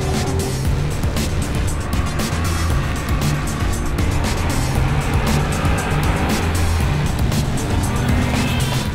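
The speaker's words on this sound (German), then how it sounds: "Rüdiger ist in dem Challenger eine Runde gefahren, bin mitgefahren" A Challenger race car with adjustable suspension and anti-roll bars runs a lap at the Nürburgring, its engine roaring loud and steady throughout, with constant road and tyre noise from close range.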